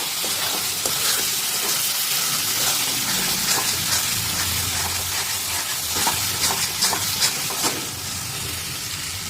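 Egg curry masala with potatoes frying in oil in an uncovered pan on high flame, giving a steady close sizzle and hiss with occasional louder crackles and stirring scrapes, no voices.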